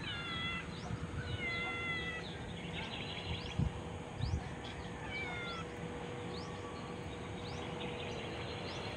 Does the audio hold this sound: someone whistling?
no